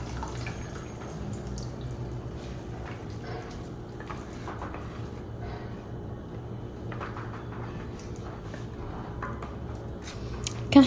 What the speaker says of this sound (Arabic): غادي نزيد عليهم شويه ديال الماء.